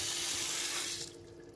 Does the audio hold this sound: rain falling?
no